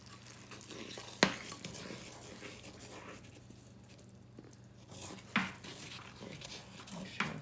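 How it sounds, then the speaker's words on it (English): Butter being stirred vigorously into a boiling mixture in a pan for a cinnamon roll, a low bubbling hiss with a few sharp clinks of the utensil against the pan, close and moderately quiet, with no talking. "I'm stirring vigorously."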